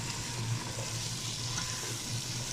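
Tomatoes, carrots and potatoes sauté together in a pot for a lentil soup, giving a steady, even sizzle of frying vegetables that holds at a moderate level throughout, with no talking.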